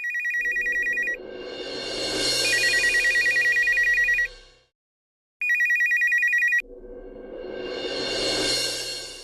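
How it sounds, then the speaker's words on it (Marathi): A telephone rings loudly and close by in a steady electronic trill, with a long burst of rings, a short silent pause, then another long burst. "अचानक फोन वाजला"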